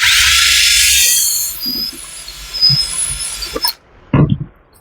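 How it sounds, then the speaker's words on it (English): A power drill whines steadily at close range, drilling out a metal brake part, then winds down after a few seconds, followed by scraping and clunks of metal handling. "Come back down here, drill this out a little bit more."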